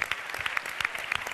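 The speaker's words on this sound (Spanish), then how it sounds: "continúan los aplausos para la región central" Applause for a regional team at a televised judged competition, a brief continuous patter with a few sharper claps standing out, fairly faint and distant.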